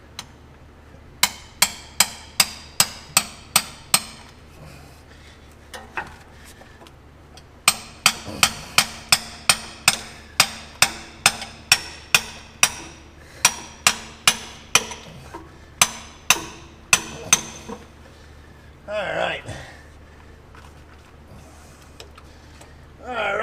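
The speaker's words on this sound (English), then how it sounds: "Now I'm going to come over and knock a hole in the oil filter here." A hammer knocks a hole in the oil filter of a dump truck, with long runs of sharp, evenly spaced metallic strikes in two main bursts, followed by a few scraping sounds near the end.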